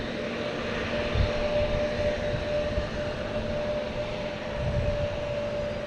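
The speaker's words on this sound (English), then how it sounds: "Swiss Air coming in from Zurich." A Swiss Air airliner arriving from Zurich at Boston Logan Airport produces a steady, broad jet roar with a thin, constant engine whine, heard from a distance without any speech.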